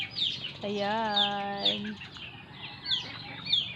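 Hens clucking in a coop where chicks are also kept, a drawn-out rising cackle followed by scattered short chirps and clucks nearby, with a person speaking briefly.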